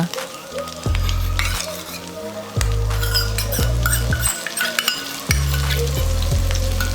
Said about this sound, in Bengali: গ্যাসের ফ্লেমটাকে মিডিয়ামে রেখে আমি আদা বাটাটাকে এক মিনিটের মতো নাড়াচাড়া করে নিয়েছি